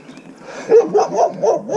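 A dog near a cyclist on an Austin, Texas trail gives a quick string of short yipping barks, four or five rapid bursts that build over under two seconds.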